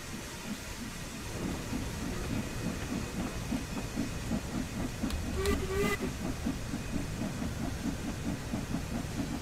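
A steam locomotive on the Liverpool Lime Street to Crewe route in Train Sim World 2 chuffs in a steady, regular rhythm under constant hiss, with a short whistle blast midway.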